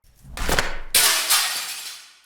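Mirrors in a bathroom shattering as an audio drama sound effect: a first crash of breaking glass, then a second louder burst of shattering with tinkling shards fading out over about two seconds.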